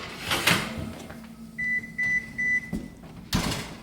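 A kitchen oven's preheat-done alert sounds as three short, clear electronic beeps in an even rhythm, close by, after a door thud, with a second thump at the end.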